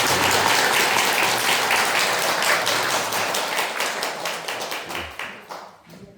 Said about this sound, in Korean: 박수로 뜨거운 박수로 맞이하겠습니다